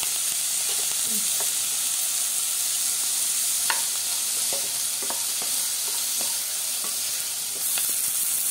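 Tomatoes sautéing in a pan with salt added, a steady bright sizzle and hiss up close, broken by scattered light scrapes and taps of stirring.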